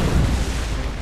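Ship cannons firing in a naval battle in Assassin's Creed Rogue, a single heavy booming blast with a dense, rumbling roar filling the whole moment, loud and close.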